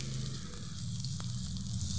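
Pumpkin leaf fritters sizzle steadily in hot oil, a continuous close frying hiss with a low bubbling undertone throughout, no voices.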